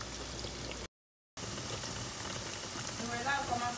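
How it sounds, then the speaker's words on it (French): Griot, Haitian fried pork, sizzles in hot oil with a steady bubbling crackle, broken by a short gap of silence, while a voice speaks faintly alongside. "Nous voyons la bouillie dans l'huile là."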